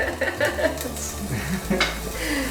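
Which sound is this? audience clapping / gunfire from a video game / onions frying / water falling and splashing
onions frying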